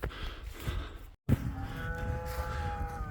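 Cattle mooing in open Calderdale countryside, a low drawn-out moo with a tonal hum, fairly close and clear, after a brief cut in the recording.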